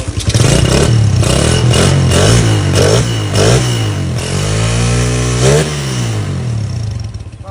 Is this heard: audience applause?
no